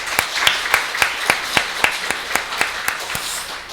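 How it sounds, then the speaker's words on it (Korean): A church congregation gives thanks with clapping, a regular, evenly spaced beat of sharp claps, about three per second, over a low background murmur. "우리 수고한 우리 선양찬한테 다시 한번 박수 한번 주실래요?"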